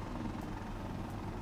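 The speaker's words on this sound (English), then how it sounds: "That helicopter is cheating." Helicopter in the video game Insurgency Sandstorm, a steady low rotor thrum holding close and fairly loud throughout a brief moment without talk.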